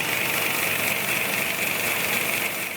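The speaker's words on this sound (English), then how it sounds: "That's the sound of a legion of pencils being sharpened." A factory machine sharpening many pencils at once gives off a steady mechanical whirr with a hissy grinding edge, held at a constant level throughout.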